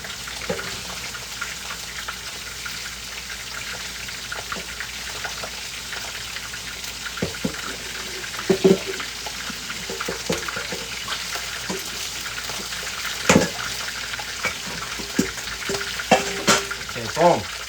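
Tap water runs steadily as a bowl and hands are washed, a continuous close hiss broken by splashes and clinks of the bowl.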